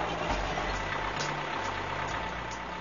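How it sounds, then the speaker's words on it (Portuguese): Giant drums driven by electric motors wind five-inch steel cables on a huge coal-mining excavator, producing a steady, loud mechanical drone and hum with faint rhythmic knocks throughout. "motores elétricos impulsionam tambores gigantes que enrolam cabos de aço de 5 polegadas como"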